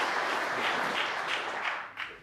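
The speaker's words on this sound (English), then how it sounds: "And this will get a terrific round of applause." Audience applause at a World Championship snooker first-round match, a broad even wash of many hands clapping that swells and holds for a couple of seconds, with no voices over it.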